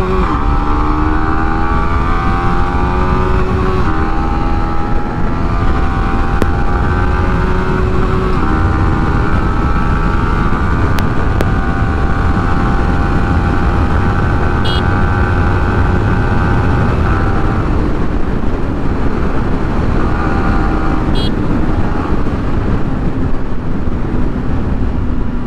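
A Royal Enfield Himalayan motorcycle rides flat out along an open road, its engine a loud, steady drone that rises slowly in pitch with steady wind roar over the full stretch and no speech.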